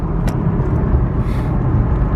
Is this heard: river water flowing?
no